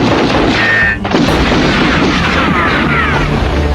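British artillery fires during a street battle against Indonesian fighters in the war for independence. A single heavy boom lands about a second in, set against a continuous rumbling din of combat.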